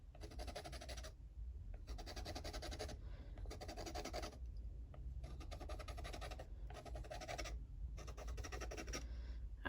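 Oil pastel layers being scratched off paper to reveal the colours beneath, in short bursts of dry, gritty scratching about a second long separated by brief pauses, quiet and close with no talking.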